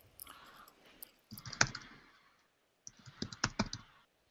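Bursts of typing on a computer keyboard in an office meeting setting, two clusters of quick clicking keystrokes close to the microphone with a short pause between them, no talking.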